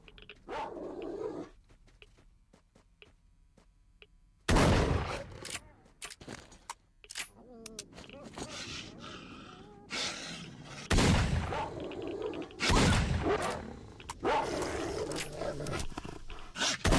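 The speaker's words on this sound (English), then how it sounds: "Mostly just wanted to kill the pseudo dog in the hopes of getting a pseudo dog tail finally." A pseudo dog in the STALKER video game growls and snarls in loud, harsh bursts, with sharp impacts that sound like gunfire breaking in between quieter stretches.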